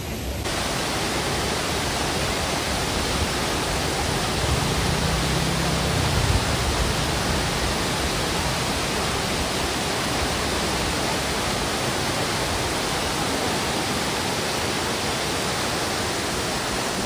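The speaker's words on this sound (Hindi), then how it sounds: "यहाँ पे ये झरना था पानी का, जहाँ पे इतना साफ पानी आ रहा था।" Clear water pours from a hillside waterfall, giving a steady, loud, full-band rushing roar that holds constant throughout with no voices.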